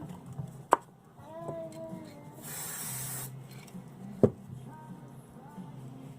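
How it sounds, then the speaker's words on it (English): A steady hissing spray of Loctite spray adhesive from a can onto a fabric-wrapped tumbler, lasting about a second, set between two sharp clicks, with faint background noise and light clatter. "I'm actually going to spray a little bit more Loctite on here"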